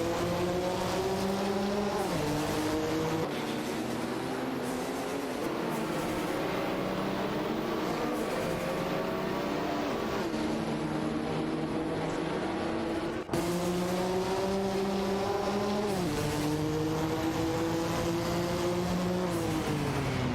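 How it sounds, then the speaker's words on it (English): Race cars speed through an AI racing game, engines screaming loud and steady the whole way, with pitch sweeping up and dropping again as gears shift, and one brief break midway. "Racing car, dashing away."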